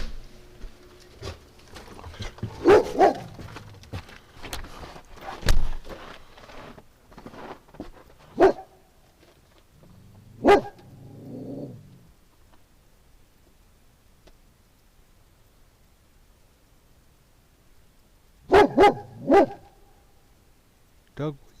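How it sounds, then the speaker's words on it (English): A dog barks in short bursts at scattered moments, loud and close, with quieter stretches and some talking in between. "what are you barking at?"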